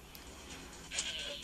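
A Dall sheep bleats in the Deer Hunter 2016 hunting game, a single short bleat rising out of a steady outdoor ambience.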